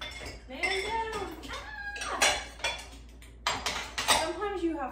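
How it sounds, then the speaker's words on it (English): Dishes and cutlery clattering and clinking as they are shuffled around while cleaning up a cluttered house kitchen, with irregular bursts of ringing scrapes and knocks, close by, alongside some vocal sounds. "Sometimes you have to rearrange the dishes."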